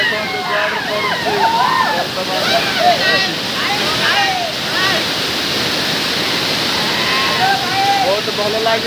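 A waterfall at Mohana in Gajapati roars steadily and close up, with a continuous dense rush of falling water throughout, while a person talks over it and birds chirp now and then.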